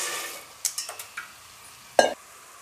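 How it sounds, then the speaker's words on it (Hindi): Dry macaroni dropped into a pot of water, heard as a quick series of light taps and clicks followed by one louder clatter, close and without speech. "अब हम इसमें क्या करेंगे, मैक्रोनीज़ डालेंगे।"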